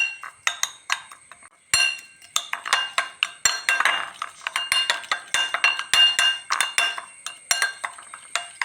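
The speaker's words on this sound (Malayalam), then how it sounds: "നല്ലവണ്ണം മിക്സ് ചെയ്ത് കൊടുക്കുന്നുണ്ട്." A spoon clinks and scrapes against a bowl while hair dye is stirred together with Dabur Amla oil, giving a steady run of sharp, close metallic taps with no talking.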